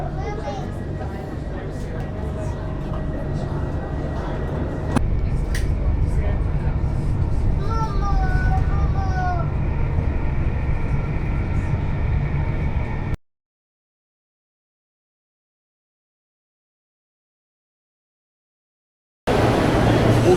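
A London Underground tube train rumbles steadily for about thirteen seconds, with a brief squealing, wavering wheel screech partway through. Indistinct voices may sit in the mix, then the sound cuts to near silence before the rumble returns.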